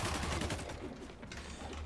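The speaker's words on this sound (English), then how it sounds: "They're shooting their own men." Gunfire from enemies in Spider-Man Remastered crackles in a dense, continuous burst of rapid shots layered over game noise, steady and fairly close for the whole stretch.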